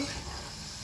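Spinach bonda batter fries in hot oil, giving a brief, steady sizzling hiss that stays close and even, with no voices.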